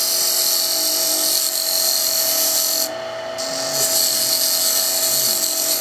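A wood lathe spinning steadily with a high whine while a turning tool cuts into the workpiece, loud and close, with a short dip in the noise midway.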